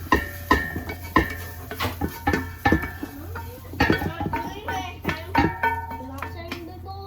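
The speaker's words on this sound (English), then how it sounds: "we're adding all of our veggies, cooked veggies here, to this big pot" Cooked vegetables tumble into a big pot of vegetable beef soup, giving a run of clanks, scrapes and thuds of spoon on metal, with a voice talking in between.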